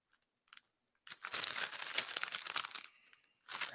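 Doritos Tangy Pickle chips crunch loudly and close up, a couple of faint bag rustles giving way to a sustained burst of chewing, then a brief pause and another crunch.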